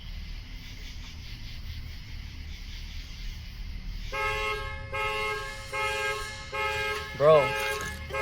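A car alarm sounds outdoors, cycling through loud repeating tonal blasts that start partway through and continue in pulses, with a brief sweeping tone near the end, and someone speaking briefly over it.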